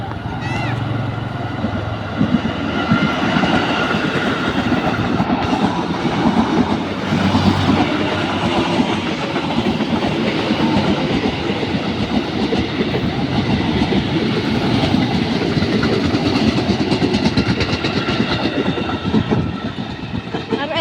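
An Indonesian KRL electric commuter train rumbles past nearby with steady rolling roar and rhythmic wheel clatter, sustained throughout.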